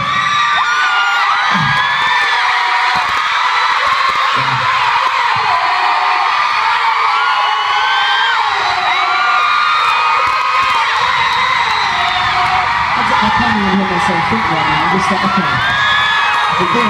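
A large concert crowd in a Dublin arena cheers, whoops and shrieks continuously, with high-pitched screams rising above a dense, loud roar throughout.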